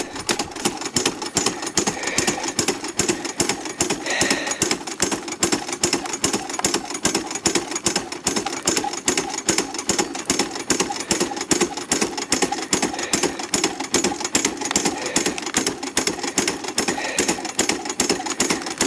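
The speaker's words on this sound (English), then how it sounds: "we have four buckets through the dry washer" A Keene Engineering dry washer runs nearby: a loud, fast, steady mechanical clatter and engine drone that continues unbroken, with no talking.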